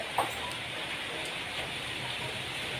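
Light, steady rain falling outdoors on a holiday, an even soft hiss throughout with one small tap near the start, no voices over it.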